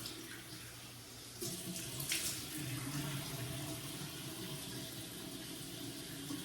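Water runs steadily from a bathroom tap while facial skin that dried after CO2 laser treatment is gently washed, a continuous close splashing hiss with slight changes in the flow.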